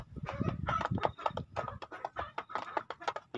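A flock of laying hens fed golden apple snails clucks continuously and busily nearby in a farm pen, with overlapping short calls and a distant crow mixed in.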